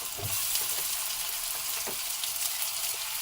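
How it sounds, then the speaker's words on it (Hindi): Cut medium-sized potatoes hit hot spiced oil in a pan for a Sindhi masala karela dish, giving a steady close sizzle with a few soft clinks and stirring scrapes. "आलू डालने के बाद हम इसको मसालों में अच्छे से मिक्स करेंगे।"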